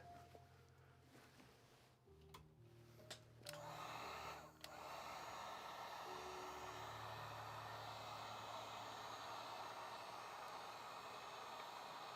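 A heat gun warms a vinyl model kit, switching on after a few seconds of faint handling noises and then blowing a steady, fairly quiet airy hiss to the end.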